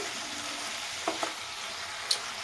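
Snakehead fish being stirred and fried in a pan, with a steady hiss of frying broken by a couple of soft scraping stirs and one sharper clink near the end, fairly quiet with no talking.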